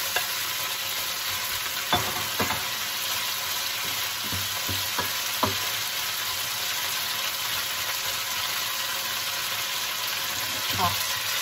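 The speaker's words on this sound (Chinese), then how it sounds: "酱，煎两分钟左右。" Cubes of black pepper beef pan-fry in sauce with a loud, steady sizzle, punctuated by a few sharp clinks and scrapes of stirring.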